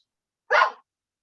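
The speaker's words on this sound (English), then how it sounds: "I've got these darn doggies barking in the background" A single short bark from a dog somewhere nearby in a home, one brief muffled burst in otherwise quiet surroundings.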